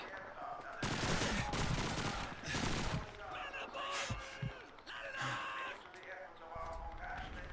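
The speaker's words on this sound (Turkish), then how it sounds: "Yalnız bu silahı sevmeye başladım. Thompson olması lazım." Bursts of Thompson submachine gun fire ring out in the video game Call of Duty 2. Loud rapid volleys come in several clusters, mixed with other battle noise, and someone talks over parts of it.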